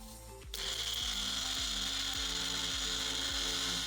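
A small electric grinder starts up after a brief pause and runs steadily, grinding ingredients for Albanian Easter bread (tsoureki) with a loud, even whir and a faint repeating rhythmic pulse, no voices.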